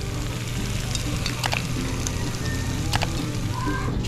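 Chicharon bulaklak, pork intestine, sizzles steadily in hot oil during a second fry, a dense, continuous crackle broken by a few sharper pops.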